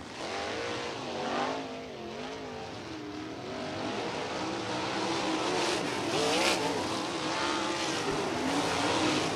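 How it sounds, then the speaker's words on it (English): USAC sprint cars at Kokomo Speedway lap the track behind a pace truck, a steady distant engine drone with rising and falling pitch sweeps that grows slightly louder toward the end, with no talking. "So cars will begin to speed around to the Toyota Racing Development Pace Truck."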